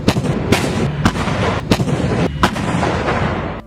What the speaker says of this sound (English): The M109 Howitzer helps the U.S. Army accomplish this mission through mobile long-range indirect fire